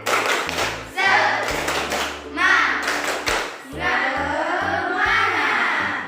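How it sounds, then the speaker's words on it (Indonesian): Schoolchildren in an Indonesian classroom perform the rhythmic 'tepuk semangat' clapping routine, with bursts of patterned claps alternating with chanted voices, close and lively. "Oke, tepuk semangat"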